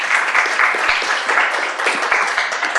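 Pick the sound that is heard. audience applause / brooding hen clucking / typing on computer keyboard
audience applause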